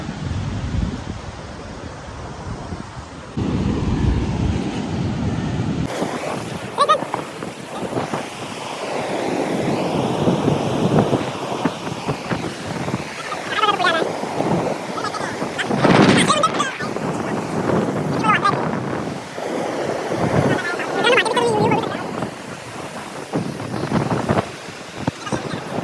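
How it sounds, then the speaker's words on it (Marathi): Rough sea surf crashes continuously onto a beach, a loud, steady roar of breaking waves mixed with wind buffeting the microphone, while a person talks over it through much of the clip. "समुद्र पूर्णपणे खवळलेला आहे."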